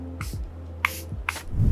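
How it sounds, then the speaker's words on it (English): Charlotte Tilbury setting spray mists onto a face in three quick, close hissing spritzes, evenly spaced in a quiet room. "I'm going to set the makeup with the setting spray from Charlotte Tilbury."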